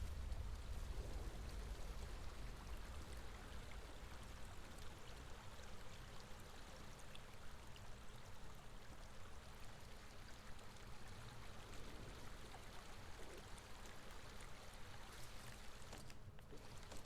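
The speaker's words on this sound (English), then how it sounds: "Let's go sit by the stream for a bit" Steady broadband wash of flowing stream water in a post-apocalyptic video game set in Northern England, continuous and even for the whole stretch, close and moderately loud with no voices.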